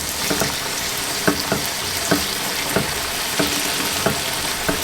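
Pork chops fry in a pan with a steady, close, loud sizzle, broken by regular soft taps and scrapes every half second or so.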